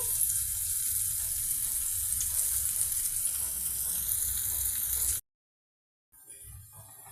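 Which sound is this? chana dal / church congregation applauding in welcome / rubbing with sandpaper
chana dal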